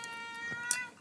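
A cat meows near a dinner table during a traditional Red Dao family meal, a single brief tonal meow with harmonics, close and moderately loud, alone without talk.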